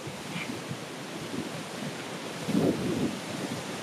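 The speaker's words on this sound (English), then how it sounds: "It is so windy today." Strong autumn wind gusts across the open Pawnee grasslands, buffeting the microphone with a continuous low roar that swells noticeably near the end.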